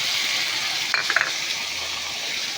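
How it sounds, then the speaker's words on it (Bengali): Spices sizzle and fry in a pan for a prawn curry, a steady hiss of hot oil with a brief cluster of sharper crackles and clinks midway, no talking. "এরপর আমি মশলাগুলো একে একে দিয়ে দিলাম।"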